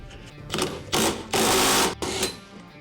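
An impact gun drives a puller to remove the pulley from an old Jeep power steering pump, heard as several loud, close mechanical whirring bursts of rising length, with the longest in the middle, separated by short gaps.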